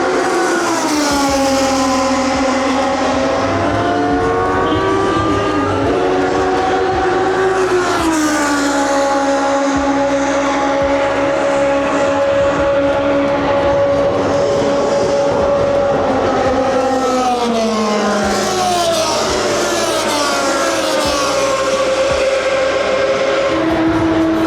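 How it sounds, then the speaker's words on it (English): Historic Formula 1 race cars lapping the Monza circuit, their loud high-pitched engines screaming and sweeping up and down in pitch as they pass close by one after another, with no talk over them. "So these are the F1 historic cars. They're out on track now."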